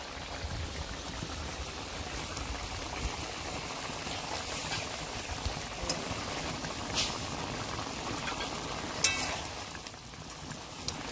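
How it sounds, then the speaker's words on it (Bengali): Fish curry bubbling in a pot, a quiet continuous boiling with small pops and a few brief clinks. "মাছের ঝাল ফুটে গেছে, মাছ ভাজা দিয়ে দিচ্ছি।"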